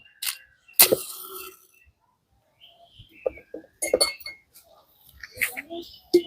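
A glass jar's lid is closed after a lit matchstick is dropped inside, while making raw mango oil pickle. Sharp clinks and knocks of glass come through in short bursts, with a voice talking in between.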